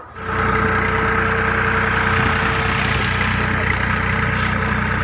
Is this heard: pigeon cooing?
no